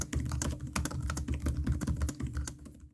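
Fingers tap rapidly and continuously on an Asus ROG Zephyrus laptop keyboard, a soft, quick clatter of keystrokes heard close and alone for a few seconds.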